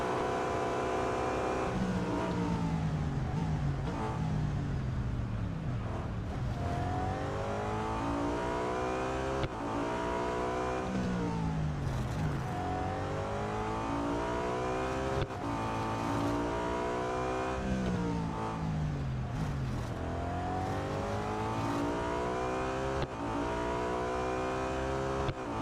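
A BMW M3 GTR race car in the Real Racing 3 video game screams through repeated upshifts and downshifts, its engine rising and falling in long loud sweeps over several gear changes, with a faint tyre squeal.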